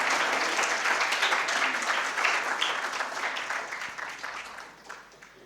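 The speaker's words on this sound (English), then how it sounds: "Can we have a huge round of applause for our speaker for today?" An audience gives a warm round of applause welcoming speaker Vijay Lokapally at a literary festival inauguration, loud dense clapping that gradually thins and fades over several seconds.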